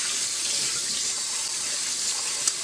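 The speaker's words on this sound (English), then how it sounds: "Let's rinse and drain the rice with cold water using a fine mesh strainer." Cold water runs steadily from a tap over rice being rinsed in a fine mesh strainer, a close, continuous bright splashing hiss with no voices.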